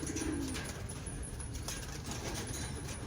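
Racing pigeons arriving at a loft during a one-loft race event, with soft cooing and faint wing flutters over a steady background hum, fairly quiet and without speech.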